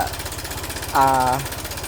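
A car engine with a faulty timing chain tensioner runs with a fast, regular rattling tick, steady and close, while a brief tonal vocal sound rises over it midway.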